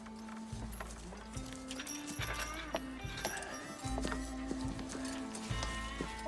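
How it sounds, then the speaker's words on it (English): A team of horses, some barely trained to the rein, clip-clops along in a dense, busy scene, hoofbeats thudding steadily under a rumbling low drone and scattered clatter, with occasional higher whinny-like cries. "Half these horses don't know what a rein is for."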